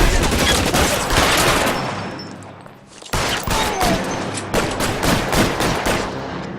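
Rapid bursts of gunfire from the L.A. Noire video game, a dense fusillade of repeated shots that briefly fades near the midpoint and then resumes loud and close, with sharp cracks continuing to the end.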